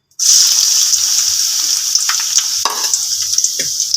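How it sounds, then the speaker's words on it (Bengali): Chopped onion drops into hot oil and bursts into a loud, steady hiss that holds close and continuous, with a few spoon scrapes and soft pops breaking through the sizzle. "এখন আমি এটার তেলের মধ্যে পেঁয়াজ কুচি দিয়ে দিচ্ছি।"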